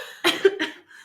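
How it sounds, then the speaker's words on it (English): Two short, throaty coughs from a person with a cold, close and fairly loud, the second following quickly after the first, with no speech around them. "I have a cold, so that's why I keep coughing."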